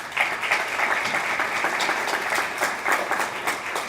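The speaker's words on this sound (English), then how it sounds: "another round of applause, please" An audience at a student leadership recognition ceremony gives a round of applause, a dense, even wash of clapping from many people that holds steady for several seconds.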